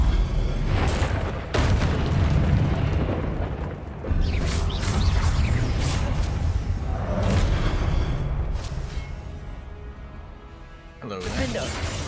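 Confringo spell blasts in Hogwarts Legacy combat, loud booming explosions that rumble almost continuously, with a few sharp cracks on top and a voice calling out between them.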